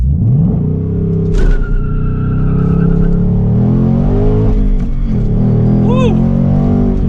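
A 2024 Ford Mustang GT convertible holds near 4,000 rpm, then launches hard, its loud V8 exhaust rising through the gears with brief tire chirps. A voice shouts partway through.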